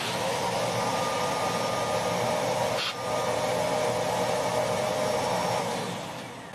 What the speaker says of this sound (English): But I think the vacuum will do fine.